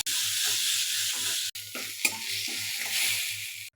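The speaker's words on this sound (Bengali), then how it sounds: "দিয়ে এটাকে ভালো করে নিয়ে নাড়াচাড়া করব" Banana flower paste with turmeric and salt being stirred in a pan, a close frying sizzle with regular scraping strokes and a brief break midway.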